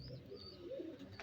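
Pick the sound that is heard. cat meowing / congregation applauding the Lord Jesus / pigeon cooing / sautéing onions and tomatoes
pigeon cooing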